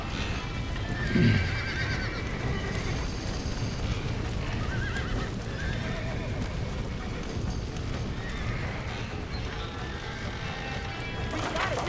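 Horses in the Red Dead Redemption video game whinny once, clearly, over a steady bed of clip-clopping hooves and general commotion, with faint voices underneath.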